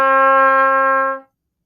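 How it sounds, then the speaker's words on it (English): A trumpet holds a single steady D fingered with valves 1 and 3, a clear bright tone lasting just over a second before cutting off, loud and close, alone. "our second note is D."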